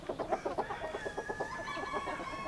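Domestic rooster clucking in a quick, chattering series while courting a hen, close and fairly loud, with a sustained crow-like call drawn out through the latter half.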